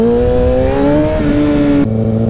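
A motorcycle engine revving hard on the throttle for a wheelie, a loud steady high-pitched whine with rising pitch that drops abruptly as the revs fall.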